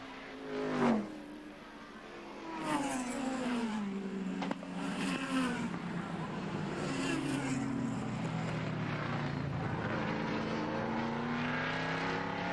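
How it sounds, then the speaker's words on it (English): Sports sedan race cars roar past at the finish of an incident-packed race, engines rising and falling in pitch through several loud passes, with a commentator's voice underneath. "Coming down to take second place, Glenn Jones, Bruce Manning, John Osborne"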